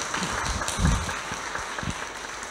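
A debate audience breaks into sustained applause, a dense wash of clapping hands filling the room at steady volume for the whole stretch.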